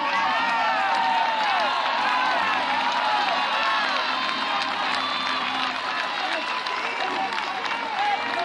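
A large crowd cheers and claps at a college NCAA regional softball game between Clemson and Alabama, a dense, continuous roar of applause and shouts filling the stands throughout.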